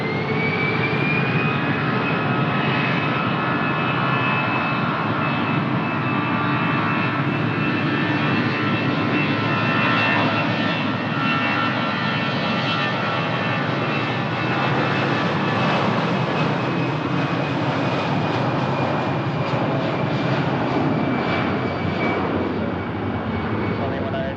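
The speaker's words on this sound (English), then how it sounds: "On the way to Madrid, Iberia, Airbus A320-200." An Iberia Airbus A320-200 jet airliner departing Lisbon for Madrid, a loud sustained engine roar with a whining tone that persists for the whole stretch, with voices talking over it.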